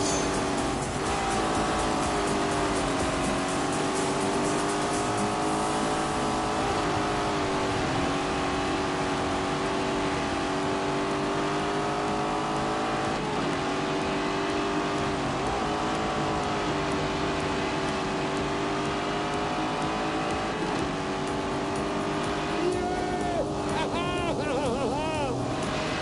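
A Lamborghini Urus SUV on a test drive with an S7 setup, its engine a steady loud drone throughout, with faint tire and road noise and speech-like sounds over it.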